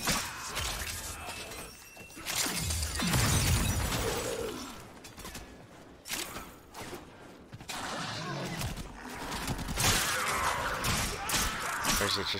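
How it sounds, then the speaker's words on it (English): A heavy attack smashes glass in a video game, with bursts of crashing, shattering debris and mechanical clatter among game noise, some loud impacts separated by brief lulls. "Heavy attack breaks the glass."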